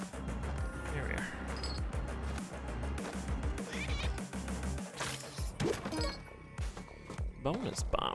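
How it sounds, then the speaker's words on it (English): A cat meows in a video game, brief mewing calls over busy game music and sound effects, with a person talking throughout. "That's a cat."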